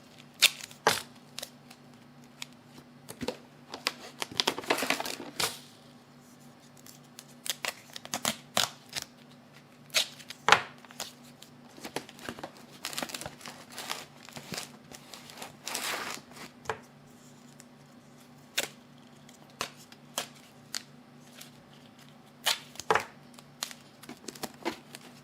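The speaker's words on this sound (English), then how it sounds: "Add some duct tape. We're just going to go all the way around until this is fully enclosed." Duct tape is pulled and wrapped around a plastic milk jug to seal it for winter seed sowing, giving irregular bursts of tearing, crinkling and handling noises, close and fairly quiet, with no speech.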